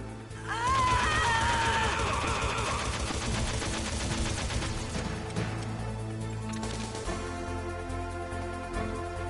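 Gunshots in the video game Metal Gear Solid, a stretch of rapid shots and crashing impacts over a droning game soundtrack, with voices and a gasp mixed in.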